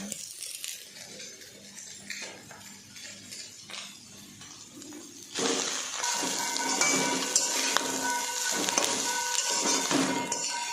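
Tomatoes and green chillies fry in a pan while Bengali-style poha is made: quiet clinks and faint sizzling at first, then a louder, steady sizzle joined by utensil taps and scrapes.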